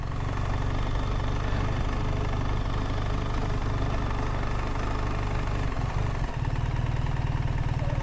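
A BMW R1300 GS Trophy Edition motorcycle engine runs steadily at close range, a continuous low throbbing drone with a slight knock, holding constant throughout with no talk.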